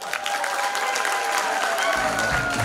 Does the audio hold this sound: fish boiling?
no